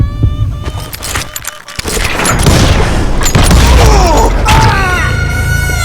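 A gunshot during a duel in the video game Call of Juarez: Gunslinger, with a sharp report near the two-second mark, then a loud sustained burst of game effects and music.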